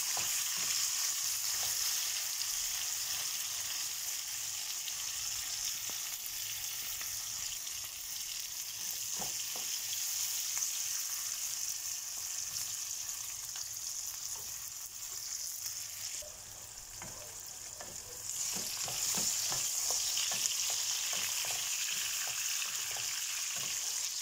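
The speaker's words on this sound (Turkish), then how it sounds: "Ara ara karıştıralım ki sebzelerimiz hepsi aynı anda kızarsın." Mixed vegetables fry steadily in a pan, a continuous bright sizzle broken by frequent scraping and clacking stirs, with a brief lull near the end before the hiss picks back up.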